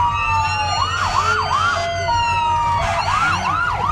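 Emergency vehicle sirens from first responders in a Fourth of July parade in Lincoln County, West Virginia, wailing in rising and falling sweeps that repeat in two bursts over steady street noise, loud and fairly close.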